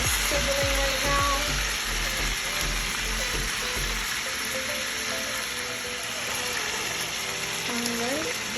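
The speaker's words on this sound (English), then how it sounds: "The hamburgers are sizzling right now." Steady crackling sizzle of hamburgers frying in hot oil, continuous and close, with faint clinks and tonal background sounds.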